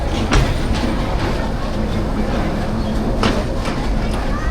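Dolonchapa Express rolling into Pirgachha station in Bangladesh, a steady loud rumble of the train with faint rhythmic wheel clatter and brief clanks, a voice briefly audible in the background.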